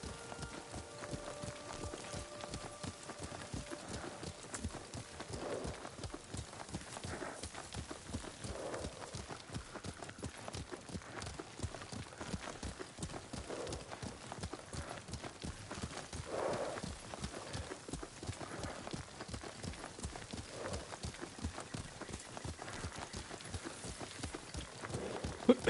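A horse ridden in the video game Ghost of Tsushima, hooves clip-clopping in a brisk continuous rhythm throughout, with voices talking faintly over the hoofbeats.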